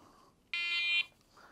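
An ND fishing bite alarm sounds a single loud, steady electronic tone for about half a second as the line wheel is spun, then cuts off into quiet.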